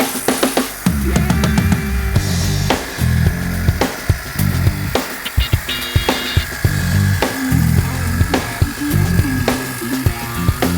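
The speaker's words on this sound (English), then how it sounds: "Art is now using the battery-powered hedge shears" Battery-powered hedge shears trimming shrubs, loud and close, cutting in repeated short bursts of motor buzz and snipping with brief pauses between strokes.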